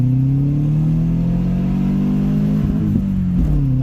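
A Cummins diesel engine in a truck roars loudly and steadily under heavy throttle during a pull, with a deep sustained drone that wavers and clatters near the end.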